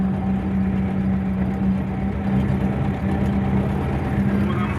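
KIR forage harvester mowing corn for silage. A loud, steady engine drone with a low hum runs through the whole stretch, even and unbroken, with no talking.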